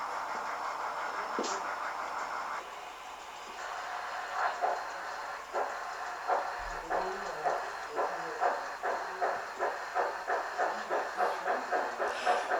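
Model trains of a Denver yard layout rolling through the Malta crossover, a steady run of rhythmic wheel clicks over track joints building up under a soft hiss, fairly close and moderately loud, with no talking.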